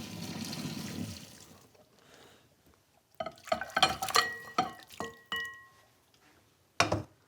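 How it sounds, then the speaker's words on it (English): Boiled water drains from a pot of beef short ribs after parboiling, the start rushing and then stopping, followed by a stretch of clinking, splashing pours and a final splash. "Drain off that water."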